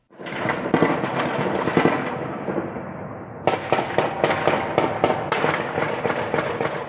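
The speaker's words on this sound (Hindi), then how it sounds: "मशीन गन की आवाजों से इस शहर की रात थर्रा रही है।" Rapid bursts of explosions and machine-gun fire at night in a Ukrainian city, crackling blasts and popping volleys, dense and continuous, then a pause and renewed sharp bursts; loud and fairly close, no voices.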